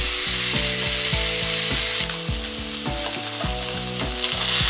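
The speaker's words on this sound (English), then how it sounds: "When it's hot, cook the beef for 3 minutes on each side." Beef sears in a hot pan over high heat, giving a steady, loud sizzle that runs the whole time under a bed of stepped, chord-like music.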